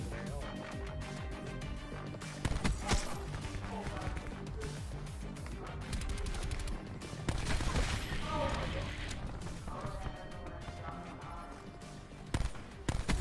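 Dense, continuous gunfire crackles through a Call of Duty Black Ops 4 firefight, with overlapping shots and bursts blending into busy game noise, under a voice talking.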